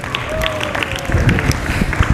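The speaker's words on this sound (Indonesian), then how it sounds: "Tepuk tangan untuk teman kalian." Children in a morning religious class clap for a classmate, a loose, uneven patter of small hands mixed with shuffling and movement, with a voice speaking over it.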